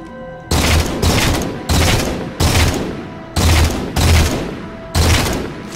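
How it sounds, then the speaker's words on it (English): Gunfire aimed at the player in Halo 4, seven heavy booming bursts arriving at a steady rhythm about every eight-tenths of a second, loud and close. "I'm getting shot at from where, though?"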